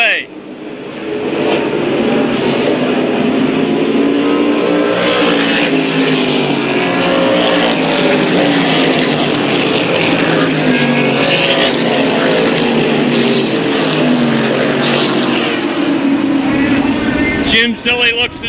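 Race cars at a 1994 oval-track event pulling away in a pack, a loud steady engine roar filling the whole stretch with a rising and falling drone under continuous announcer commentary.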